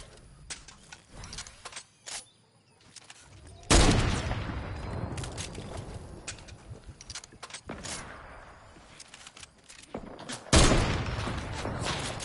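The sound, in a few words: gunfire in the video game Fortnite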